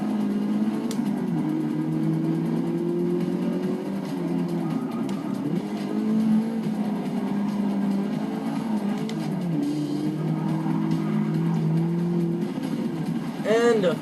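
Porsche race car engine in the video game Forza 6, a steady droning whine heard from the cockpit that rises and falls through gear changes for the whole stretch, with a voice talking over it.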